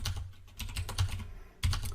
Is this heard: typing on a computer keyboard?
yes